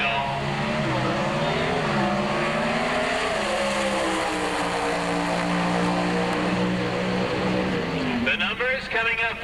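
An Oldsmobile Pro Stock drag race car roars loudly and continuously, its engine pitch rising and shifting over an announcer's commentary at an NHRA Spring Nationals drag strip, with a rougher burst near the end.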